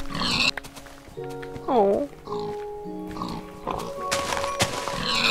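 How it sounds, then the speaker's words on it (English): Pigs in the Minecraft video game give a few short, pitch-sliding oinks and grunts, with a person's voice briefly exclaiming nearby and quiet background activity between the calls. "Look at all these pigs."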